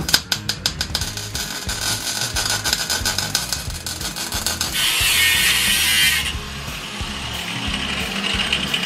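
Rapid mechanical ratcheting clicks lead into a short burst of harsh, crackling hiss from a trigger-fed welder tack welding on a vintage prerunner's four-link suspension, followed by a lingering workshop rumble.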